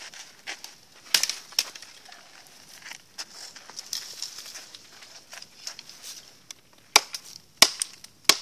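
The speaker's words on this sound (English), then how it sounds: "And we lob some branches off." A heavy Bark River Bravo Survivor knife chops branches off wood outdoors. Sharp, sparse cracking blows land a few seconds apart over faint background rustling, and birds call now and then.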